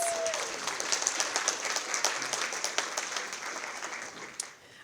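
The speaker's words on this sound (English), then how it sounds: "Let's give them a round of applause." Conference audience applauding a transfer student panel, a steady, moderately quiet patter of many hands that tapers slightly near the end, with a faint voice briefly underneath.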